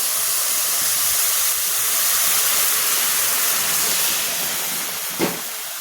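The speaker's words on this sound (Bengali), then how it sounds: "এখন আমি বিরিয়ানির পানিটা দিয়ে দেব" Water hits fried rice in a hot pot for biryani, raising a loud, continuous broadband hiss of sizzling steam that holds steady for several seconds, close up, with a small clunk near the end.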